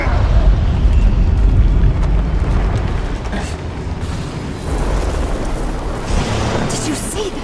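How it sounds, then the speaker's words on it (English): A bloodstone explodes in the Guild Wars 2 game, a loud sustained rumbling burst with a deep low-end roar and crackling debris that stays heavy throughout, with brief swells near the end. "That bloodstone explosion seemed to trigger some sort of magical echo."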